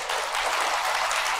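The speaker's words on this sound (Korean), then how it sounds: "이해하신 분들만 박수 한번 쳐볼래요?" A church congregation at Seongpo-dong Catholic church claps together in a steady, dense burst of applause that fills the room for over a second, with no voices on top.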